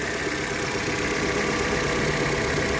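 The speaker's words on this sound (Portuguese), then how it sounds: "esses carros numa situação da bomba estiver trabalhando com restrição de passagem de óleo por ela, faz muito barulho" Steady, loud engine drone from a Fiat Mobi running with its oil pump restricting oil flow, a continuous broadband mechanical noise with no pauses and no talk over it.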